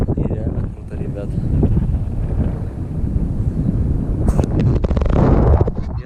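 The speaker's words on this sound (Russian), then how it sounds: "Дует морячок прохладный." A cool sea breeze on a foggy Black Sea coast near Gelendzhik buffets the microphone in loud, gusting rumbles, with a person talking over it.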